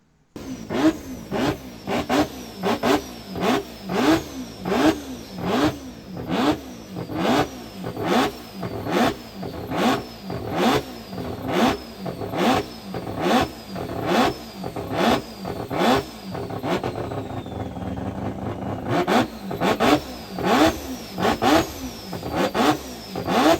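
A multi-rotor rotary engine in a Mazda FD car revs repeatedly in quick, rhythmic bursts, each blip rising and falling sharply, with a raspy intake note and a brief pause before the revving resumes.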